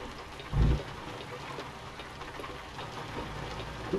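Rain falls at night in the American Truck Simulator game, a steady soft patter with a brief louder rumble near the start, continuous and fairly quiet with no speech.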